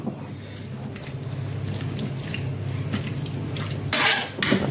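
Cooked carrots for gajar halwa being stirred in a pot, a steady soft scraping and sloshing with a few sharper clinks of a spoon against metal near the end, close and moderately loud.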